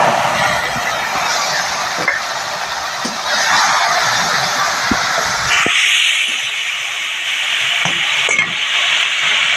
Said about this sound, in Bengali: টমেটোটাকে একটু ভাজে ভেজে নিতে হবে